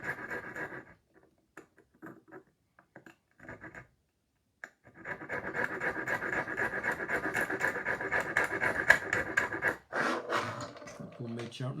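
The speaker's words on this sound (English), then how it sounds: "Homemade sharpening stone." Steady rasping scrape of a blade worked against a homemade sharpening stone, starting with short strokes, then continuous grinding for several seconds, fairly close.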